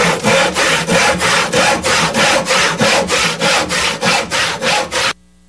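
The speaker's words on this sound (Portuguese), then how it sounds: "Vamos serrar o chifre dele." A hand saw cuts through a horn in quick, even back-and-forth strokes, about a dozen rasping pulls heard up close and loud, stopping abruptly near the end.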